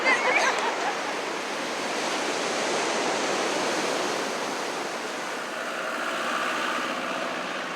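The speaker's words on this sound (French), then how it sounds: "Et Alors, des vagues." Sea waves wash onto a pebble-and-sand beach on Île de Ré, a continuous broad rushing surf close by, swelling and easing slightly with no talk.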